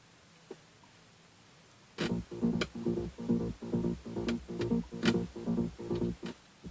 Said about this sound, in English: I have the deep bass line, which sounds like this.